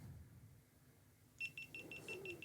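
A regular series of short, high electronic beeps starts partway through, fairly faint over a low background rumble.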